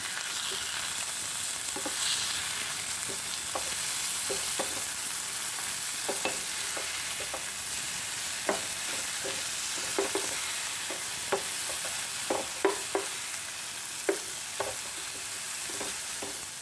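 Prawns sizzle steadily in a hot pan for chemmeen fry, with a continuous broadband frying hiss punctuated by a dozen or so short scraping clicks as the pieces are turned over; close and fairly loud, with no voices.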